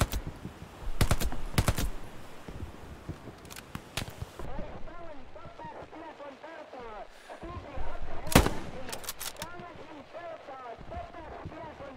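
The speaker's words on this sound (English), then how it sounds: "I'm shooting at them." Bursts of gunfire and heavy shots in a shooter video game crack out in sharp clusters near the start and again later, between quieter rattling stretches, with a voice talking faintly.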